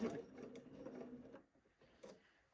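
A home sewing machine stitches a pants seam in a short, quiet burst that runs just over a second, followed by soft clicks and fabric handling sounds.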